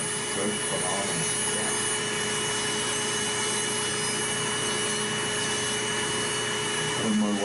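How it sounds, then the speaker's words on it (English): A nail drill with a built-in vacuum in the handpiece, used while treating fungal toenails, gives a steady high whine and suction hiss throughout, with people talking over it. "This has a vacuum in the handpiece"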